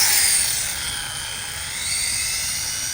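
An Arrma Typhon 6S RC car on a 3S battery screams at full throttle, a loud, close, high-pitched electric motor whine that holds steady for the whole stretch.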